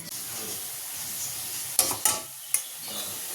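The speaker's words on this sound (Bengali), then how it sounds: "এখানে হচ্ছে ডালের বড়া ভাজা, গরম গরম ডালের বড়া ভাজা" Lentil fritters (dal bora) frying in hot oil, a steady close sizzle with three brief sharp clinks of a utensil stirring the pan.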